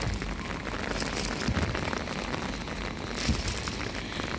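Steady rain falls around rice paddy fields, a dense continuous hiss with scattered close drops and occasional heavier thumps, loud and uninterrupted throughout with no voices.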